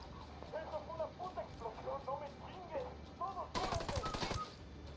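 Gunfire in the video game Ghost Recon Wildlands: a burst of rapid shots near the end sounds over ongoing talk, with voices heard through most of the clip.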